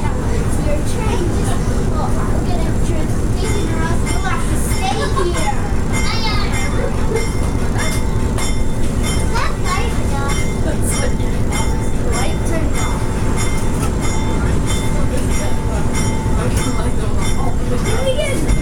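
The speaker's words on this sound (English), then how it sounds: "I'm sure the tron is now pulling" North Shore Scenic Railroad passenger train pulling away from a stop between Lester River and Duluth, a steady loud rumble of wheels and cars rolling on track throughout, with chatter and children's voices in the car.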